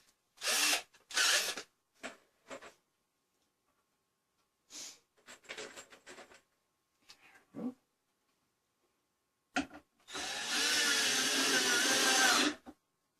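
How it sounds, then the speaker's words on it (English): A power drill drives screws into a wooden treasure box in short whirring bursts with quiet gaps of handling noise, ending in a longer sustained run of the drill, close up. "Now let's try to put a couple of screws in there."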